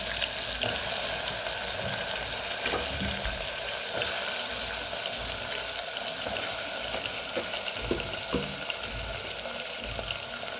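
Asafoetida and potatoes sizzle in hot oil, a steady, hissing crackle that carries through the whole stretch with a few soft clinks and stirring bumps, no voices.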